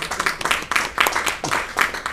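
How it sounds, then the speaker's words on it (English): A comedy club audience breaks into applause for a stand-up's roommate, a dense, steady wash of many hands clapping at close range with small swells throughout. "give him a round of applause"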